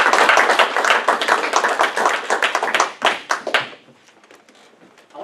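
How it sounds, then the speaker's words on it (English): An audience gives a round of applause, a full burst of many hands clapping that fades into a few scattered claps and then quiet. "Give her a round of applause as she gets up"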